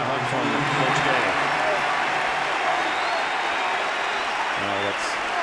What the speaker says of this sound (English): Redick goes out to a deserved applause and a hug from Coach Gale.